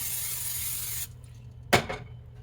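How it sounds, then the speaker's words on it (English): A steady hiss stops, then a single short, sharp spritz of cooking oil spray sounds close by, followed by quiet. "Start with some spray oil."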